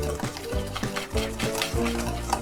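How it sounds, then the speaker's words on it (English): A whisk stirs vegan buttermilk waffle batter in a bowl, giving a quick, regular rhythm of soft wet swishes and taps, close by and moderately loud. "Take your whisk and blend it, stir it well to combine all those ingredients together."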